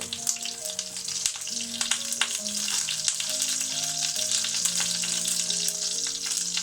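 Black pudding and sausages for a full English breakfast fry in a pan with a steady, close sizzle and crackle throughout, with a few sharper pops and no voices.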